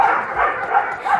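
Tied-up dogs at home, not yet let loose, bark and whine close by in repeated loud bursts with short gaps between them.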